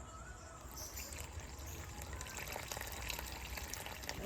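Water poured into flour with a little oil and salt while mixing dough for gola roti; a steady, quiet trickle and pour runs throughout, soft and close, with no talking.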